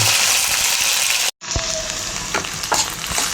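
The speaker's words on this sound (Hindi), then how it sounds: "भिंडी हो रहा है बढ़िया से फ्राई" Chopped okra frying in hot oil with cumin, a loud close sizzle that cuts out briefly and then resumes as pieces are stirred, with light scraping clicks over the steady hiss.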